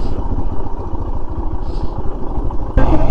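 A motorcycle rides along a wide, sunny Himalayan mountain road on the way toward Rudraprayag, its engine a steady, close, low rumble with clattering road noise throughout and a louder surge near the end.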